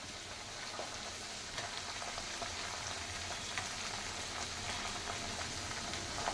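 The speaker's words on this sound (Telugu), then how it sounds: "ఎందుకంటే మూత పెట్టాను, అవి పేలుతాయి, టప్ప పేలుతాయి." Masala-spiced corn kernels fry in oil in a covered pan, a steady soft sizzle with faint scattered crackles and small pops, heard alone at low level.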